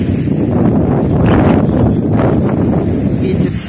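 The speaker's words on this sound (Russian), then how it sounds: "Ветер сильный." Strong wind on a high seashore at Anapa buffets the microphone with a continuous loud roaring rush, gusting slightly throughout.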